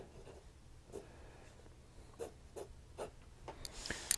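A Wing Sung 3003 fountain pen nib scratches across paper in short, quiet strokes with small gaps between them, faint and close with some feedback.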